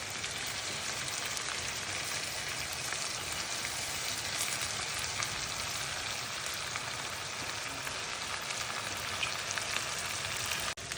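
Salmon fillet frying in a pan, a dense steady sizzle with crackling spatter filling the whole stretch at an even level, no voice over it.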